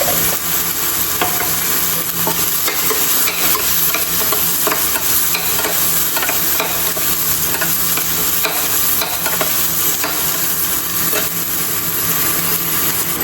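Food fries with turmeric in a pan, giving a loud, continuous close-up sizzle while a spoon scrapes and stirs repeatedly throughout, with no voices.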